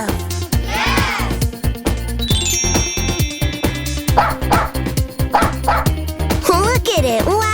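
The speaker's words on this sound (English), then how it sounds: "The dog goes, woof, woof!" A dog barks and yips repeatedly in short bursts, fairly close and loud, alongside a cheerful voice and a bright electronic tone, in an animal sounds toy setting.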